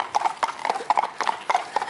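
Horse hooves clip-clop at a walk, a close, crisp, regular rhythm of hoof strikes on hard ground, loud and clear with no talk.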